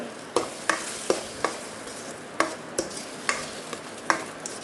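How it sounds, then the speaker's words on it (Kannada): A mango pulp mixture for mango sheera, with ghee, is stirred in a pan, giving a steady rhythm of soft scraping strokes over a faint sizzle, close up and with no talking. "ಮಾವಿನ ಹಣ್ಣಿನ ಮಿಕ್ಸನ್ನು ಹೀಗೆ ಹಾಕಿ ಚೆನ್ನಾಗಿ ಹೀಗೆ ಮಿಕ್ಸ್ ಮಾಡಿಕೊಳ್ಬೇಕು"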